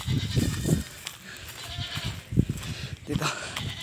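Goats bleating in a farm flock being let out to graze on the range, several calls rising at intervals over outdoor background noise, with someone talking among them.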